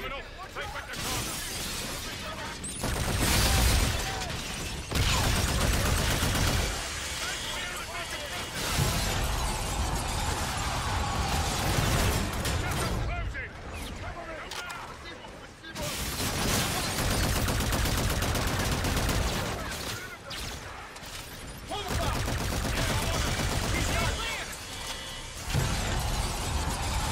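Sustained bursts of gunfire and shattering impacts in a Call of Duty: Infinite Warfare battle, with enemies shooting civilians in a terminal; loud, repeated volleys with brief lulls, mixed with voices speaking.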